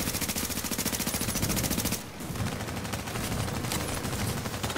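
Turret gunfire in a video game: rapid, rhythmic automatic bursts hammer on loudly and continuously, broken by one short gap midway before the firing resumes.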